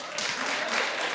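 A comedy show audience breaks into dense, continuous applause and clapping, filling the short moment at full strength.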